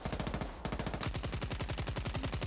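Rapid automatic gunfire in the extraction shooter Exoborne, a loud, close, steady rattle of evenly spaced shots that keeps going without a break and plays alone with no talk over it.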